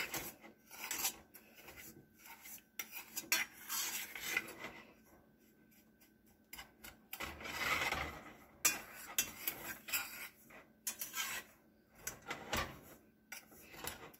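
Spoon stirring a hot chocolate mixture in a pot to break up lumps, heard as close, irregular scraping and clinking against the pot, rising and falling in bursts without any talking.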